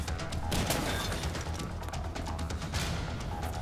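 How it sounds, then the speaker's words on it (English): In Dead Rising, gunfire echoes from the floor above, a steady stream of muffled, moderately loud shots blending into busy mall noise. "Someone shooting from the floor above."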